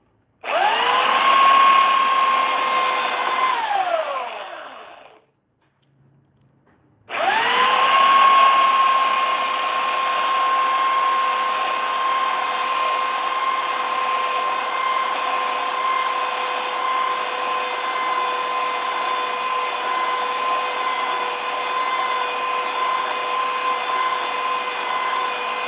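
A power sander grinds corrosion off a metal elevator part, whining loud and close in one steady high-pitched run, then stopping briefly and starting up again for a long continuous stretch.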